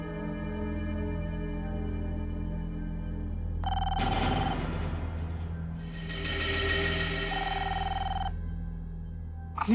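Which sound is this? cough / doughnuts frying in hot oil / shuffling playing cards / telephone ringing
telephone ringing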